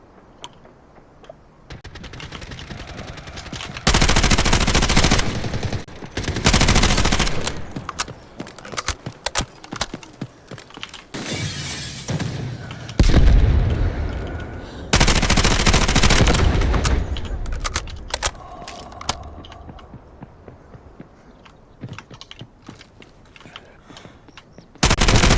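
Video game gunfire comes in loud repeated bursts of rapid shots separated by quieter gaps, with a person exclaiming and talking between volleys.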